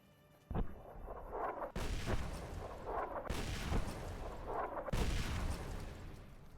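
Heavy artillery bombardment pounds the area around Nellis Air Force Base in Fallout: New Vegas, with loud, dense rumbling blasts and sharp impacts arriving in successive waves, close and continuous.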